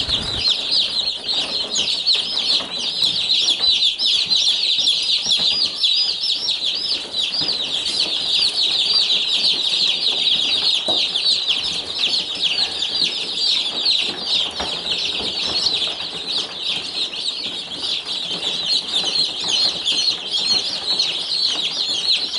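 Many Cornish Cross baby chicks cheep continuously in a dense, high-pitched chorus, steady and close for over twenty seconds, with occasional soft rustling and no talking.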